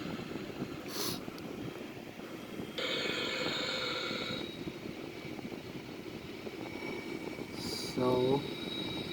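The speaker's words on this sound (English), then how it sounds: "Right engine is on." Right jet engine of a Sukhoi Su-30M2 fighter running steadily after start, heard from the cockpit as a continuous broadband roar with a whining tone, brief higher bursts and a short clicking sequence near the end, with voices over it.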